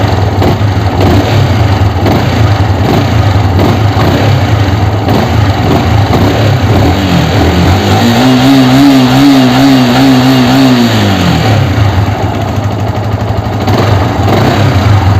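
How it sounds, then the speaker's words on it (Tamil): Yamaha R15 motorcycle with a clutch noise and pickup problem, engine idling loudly and close with a steady throb, then one smooth rev rising and falling back to idle. "இப்போ நம்ம வண்டியை ஸ்டார்ட் பண்ணி செக் பண்ணி பார்த்துருவோம்"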